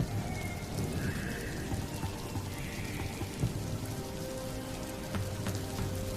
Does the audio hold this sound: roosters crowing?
no